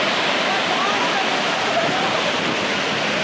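Sirnapalli Waterfall in Nizamabad, running full, roars in a dense, unbroken rush of water, loud and close, with no pauses.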